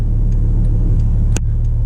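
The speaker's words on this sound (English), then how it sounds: "this car is a turbocharged flat 6, and this car moves" A Porsche 997 Turbo Convertible with a turbocharged flat-six engine, heard as a loud, steady low engine drone from inside the car in traffic, with a brief sharp click near the end.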